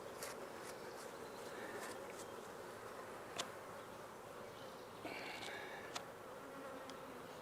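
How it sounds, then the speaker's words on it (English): Honey bees buzz inside an opened hive box, a steady dense drone with brief louder bursts and a few soft knocks near the box. "thought there was going to be gobs of bees in that box to make this starter"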